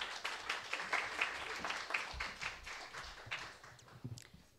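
Scattered hand claps from a school admissions-session audience welcome the next speaker, a light, uneven patter that thins out toward the end, with a few faint voices.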